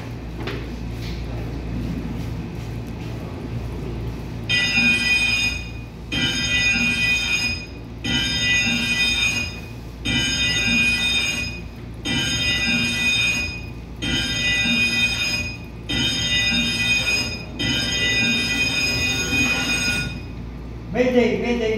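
A ship's general alarm sounds for a man-overboard emergency, a loud ringing bell in evenly spaced bursts of about a second, repeated steadily over engine hum while people talk underneath.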